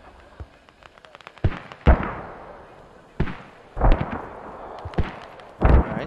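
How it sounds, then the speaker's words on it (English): Enemy mortar rounds land in a video game battle: about five heavy booming explosions at irregular intervals, some doubled, each followed by a brief rumbling decay over a quiet background. "Enemy mortars near radio."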